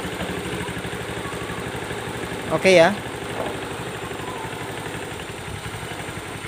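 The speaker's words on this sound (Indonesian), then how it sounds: "motornya langsung sudah hidup" A Honda Beat Street ESP scooter idles just after starting, a close, steady low putter with a brief spoken word partway through.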